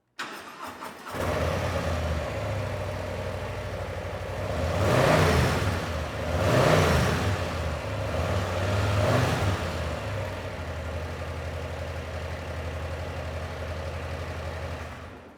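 A Harley-Davidson Low Rider S engine with stock exhaust fires up and idles with a steady low rumble, a few blips of the throttle rising and falling in the middle, close by and loud.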